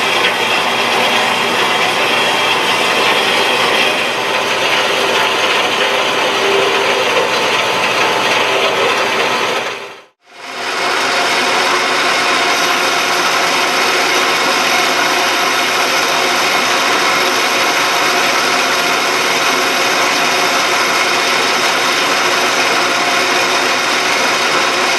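A stainless steel bar is cut down to length for a shop hammer, with a loud, continuous grinding mechanical drone. The cut pauses briefly near the middle, then carries on at the same level.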